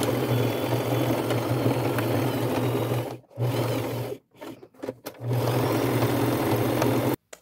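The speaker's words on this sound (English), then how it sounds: "pivot in your machine and go all the way along the edge, 1/4 inch seam allowance" Sewing machine stitching a backpack seam, a close steady whirring drone broken by a few quick stops and restarts, with no talk.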